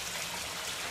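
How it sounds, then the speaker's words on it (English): Water curtains pour steadily into a small backyard mini pool at a villa-walled home in The Villages, a continuous close splashing rush with no talk. "So you have some nice water curtains"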